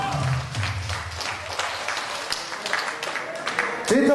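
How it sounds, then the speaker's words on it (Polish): Applause from the audience at a party game for a woman, moderate and steady across the moment, with a voice cutting in briefly near the end. "I wielkie brawa dla naszej pani."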